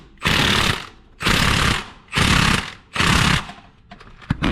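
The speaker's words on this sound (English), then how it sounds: "Take your impact driver and tighten it up completely." An impact driver tightens the crankshaft pulley bolt on a 2004–2012 Honda Accord in four loud, close hammering bursts of about a second each, followed by a few short sharp clicks.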